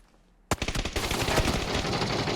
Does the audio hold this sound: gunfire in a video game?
yes